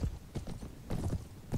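Horse hooves galloping in the video game Mount & Blade, a quick irregular clip-clop of several hoofbeats in bursts, fairly close and moderately loud, with no talk over it.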